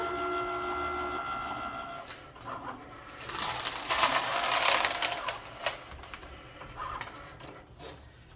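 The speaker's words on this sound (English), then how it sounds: "Select fast mode and hit our Cricut button again. All right, while it's working" A Cricut cutting machine running in fast mode while a boho rainbow teacher shirt design is cut, giving a close, steady mechanical whirring with rapid clicks and carriage movements, rising and falling in intensity, with no talking.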